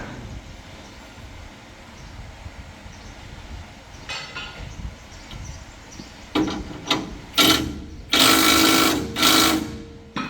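A power tool drives in nuts with a low whirring under background hum, then several short, louder bursts and longer runs toward the end.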